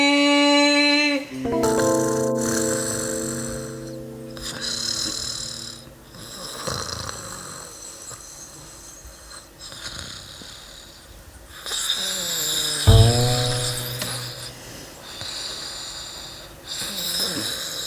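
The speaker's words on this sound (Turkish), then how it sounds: "Kızım sen böyle horlarsan ayılar bile kaçar lan." A woman snores loudly in a rhythmic run of rasping, nasal breaths, close and alone, with one sharp snort partway through.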